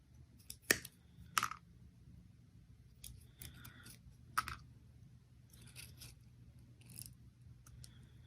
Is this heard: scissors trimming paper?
yes